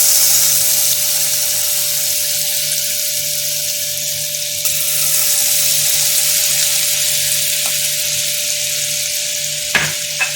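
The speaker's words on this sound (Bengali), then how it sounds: "এখন আমি এই তেলের মধ্যে একটু বাটার দিয়ে দিচ্ছি।" Butter sizzling in a pan of hot oil just used to fry paneer, a loud, steady, close crackling hiss that runs unbroken the whole time, with a faint clink near the end.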